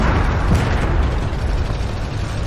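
A tank main gun fires in a Leopard 2AX tank simulation game, a loud broad booming blast that rolls on with rumbling low noise for a couple of seconds, no one speaking.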